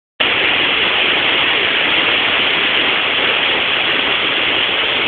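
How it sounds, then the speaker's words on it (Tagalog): Malabsay Falls on Mt. Isarog roars as a dense, steady rush of falling water, loud and close, starting abruptly and holding constant with no voices. "Yan ang Malabsay Falls."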